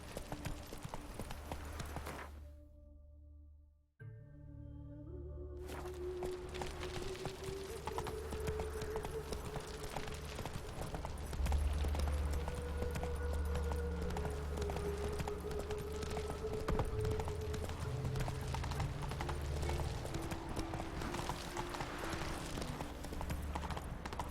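Roach the horse trotting in The Witcher 3, with steady clip-clop hooves that continue close and loud for most of the stretch after a brief silent gap near the start. Faint ambient sounds sit underneath.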